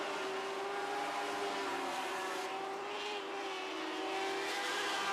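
Open-wheel sprint cars in a Lightning Sprints feature race roar around the track, a dense, continuous engine drone with pitch shifting as the field passes.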